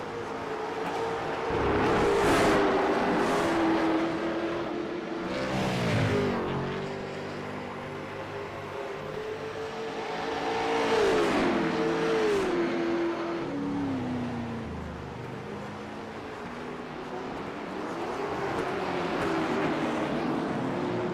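Can/Am series race cars at Mosport, engines wailing and shifting as cars sweep past in waves, the pitch rising and falling as they close in and pull away, loud and continuous.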